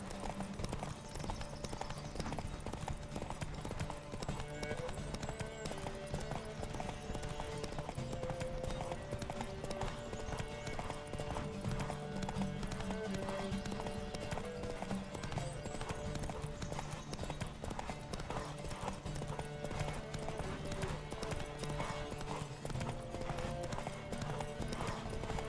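Horse hooves clip-clop at a steady gallop in The Witcher 3, a continuous rapid rhythmic pounding over a dense, busy game soundscape.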